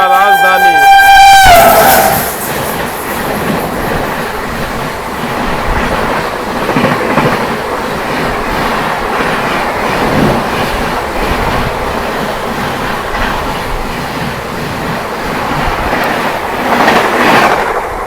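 Howrah New Delhi Rajdhani Express rushing past, a horn blast at the start followed by a loud sustained roar of wheels and coaches with rhythmic clatter, heard from onboard with a voice talking over it.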